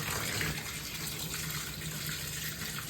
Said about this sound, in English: I'm going to go and get the water nice and warm for him so it's comfortable.